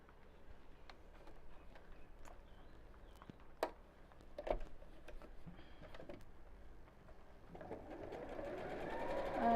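A sewing machine stitches a boxed cushion cover, a soft mechanical hum with scattered clicks and handling noises, building into a louder, faster run of stitching near the end.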